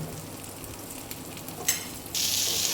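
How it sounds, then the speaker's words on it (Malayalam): Chopped cabbage drops into goat ghee in a pan, turning a faint background crackle into a louder, bright sizzle in the final second. "ഇതിലേക്ക് അരിഞ്ഞു വെച്ച കാബേജ് നമ്മൾ ഇടുകയാണ്"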